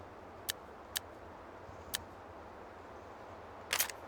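Sharp metallic clicks from an AK5C rifle as its bolt locks open on an empty magazine, four brief isolated snaps spaced apart with a slightly louder double click near the end, no talking.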